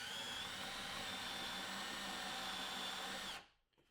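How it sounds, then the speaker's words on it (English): Power drill boring into a wooden cabinet, a steady high-pitched whine held loud and close for over three seconds before cutting off abruptly, no talking. "Now try not to drill all the way through the cabinet."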